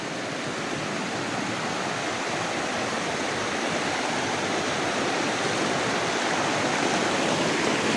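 A flowing stream rushes steadily and close by, a dense, even wash of water noise that holds without pause for the whole stretch, with no voices.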